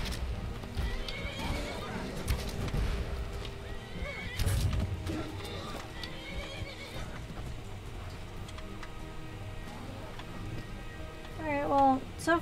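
Frost, a horse in the video game Skyrim, gives a sharp, loud whinny near the end, following hoof clip-clops and background noise, with a person talking at times.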